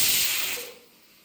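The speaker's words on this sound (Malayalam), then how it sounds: "കുക്കർ അടച്ചിട്ട് ഒറ്റ വിസിലടുപ്പിച്ചാൽ മതി" A pressure cooker holding lentils, spinach, turmeric and water releases steam in one brief, loud hiss that quickly fades away.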